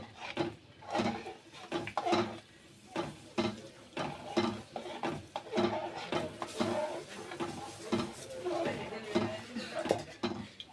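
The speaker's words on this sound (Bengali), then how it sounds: "ডাউল দিবেন আর হাতল দিয়ে এভাবে নাড়তে থাকবেন" A spatula scrapes and clanks against a pot while mashkalai lentil dal with rohu fish head and bottle gourd is stirred, giving irregular metallic knocks and rubbing under a voice.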